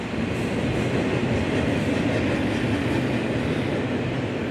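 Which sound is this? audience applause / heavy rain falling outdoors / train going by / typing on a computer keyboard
train going by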